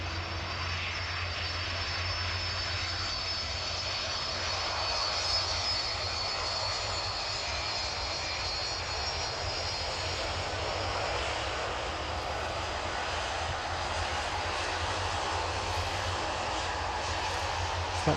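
A DHL Boeing 757 jet passes an airport terminal at East Midlands, its engines a broad, steady roar at moderate distance that holds for the whole stretch, with no talking over it.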